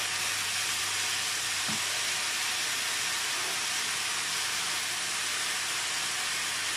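Soy sauce hits a hot frying pan with Chinese cabbage, noodles and shrimp, giving a loud, unbroken hissing sizzle that holds steady throughout with no speech.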